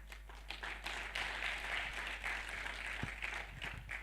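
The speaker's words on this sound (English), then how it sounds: "more round of applause for NCA," Audience applause at the close of a speech at a telecom regulators' advisory council and annual assembly, steady, dense clapping from a crowd lasting several seconds over a low hum, without talk.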